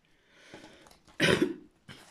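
A short burst of coughing and throat clearing, close and fairly loud, preceded by faint rustling and followed by a brief breathy sound.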